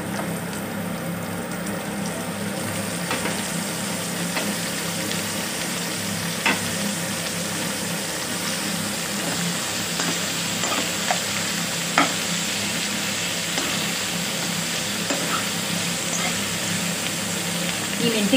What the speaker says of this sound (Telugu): ఇప్పుడు ఇందులో మనం మెంతి కూర వేసుకుందాం.